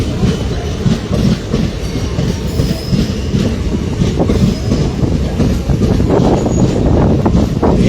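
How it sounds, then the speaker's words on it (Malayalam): A Kanyakumari–Punalur passenger train runs past close by, heading north, with a loud continuous rumble of wagons, rhythmic wheel clatter and brief wheel squeal throughout, and no talk. "ഈ ട്രെയിൻ സൗത്തിൽ നിന്നും നോർത്ത് ഡയറക്ഷനിലേക്ക് വരുന്നൊരു ട്രെയിനാണ്"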